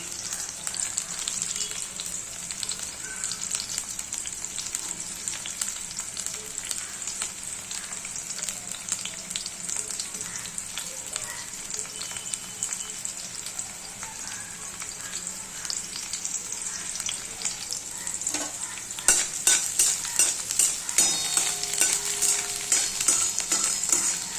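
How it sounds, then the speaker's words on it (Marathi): Chopped chillies and garlic frying in oil in a pan for a peanut and fenugreek leaf dish, a continuous close crackling sizzle that grows louder and spattery near the end. "मिरची थोडीशी बघा तेलामध्ये फ्राय झालेली आहे"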